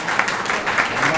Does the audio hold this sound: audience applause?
yes